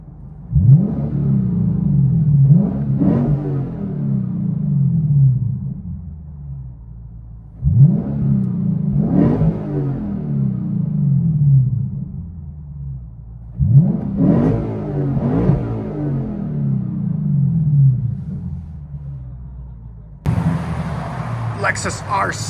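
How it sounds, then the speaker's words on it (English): Interior view of a 2015 Lexus RC F 5.0L V8 with Dynomax Race Bullets and a rear delete 2.5-inch pipe: three deep, rumbling revs rise and fall in a steady pattern, heard from inside the cabin. "Let you guys hear it on the inside."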